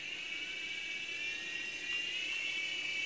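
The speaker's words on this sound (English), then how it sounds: "We have the... helicopter on, transmitter is on, and we give it a little juice." The motor of a MingJi no.901 toy RC helicopter whirs up on a tabletop, a thin, steady high-pitched whine that holds and rises slightly in level near the end, heard close with no talk.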